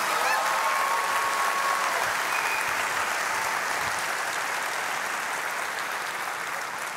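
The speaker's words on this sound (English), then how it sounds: "Okay, you could clap, but it's okay." A convocation audience breaks into steady, full applause, the dense clapping staying loud and constant for the whole stretch, with a brief faint tonal sound near the start.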